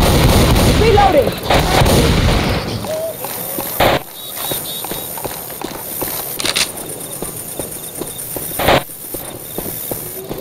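Gunfire in Left 4 Dead 2 on the Dark Carnival and Swamp Fever campaigns, heavy dense shooting at the start, then sharp separate shots and bursts spaced through the rest, with game noise around them.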